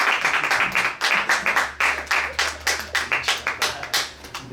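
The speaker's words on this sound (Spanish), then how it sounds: "démosle un aplauso" Audience applause after an academic physics talk, a small group clapping with distinct individual claps in an uneven rhythm, close and fairly loud, tapering off at the end.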